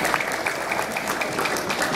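Audience applause for dance-choreography class students at a certificate ceremony, a dense clapping wash heard close and fairly loud, with a few sharper claps standing out in the steady roar.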